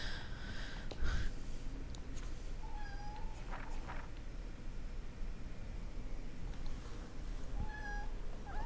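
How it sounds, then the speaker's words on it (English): A cat meows a few times at a distance, short rising calls spread out over a steady background hiss, with some faint rustling in between. "I just heard him meow"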